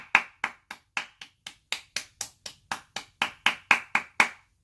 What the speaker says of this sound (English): Let's all give them a round of applause for being pieces of shit.